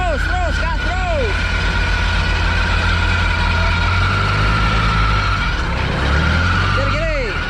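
An off-road vehicle on a muddy trail in Cikole, Bandung, growls with a low, steady engine rumble and throttle pushes while people shout nearby.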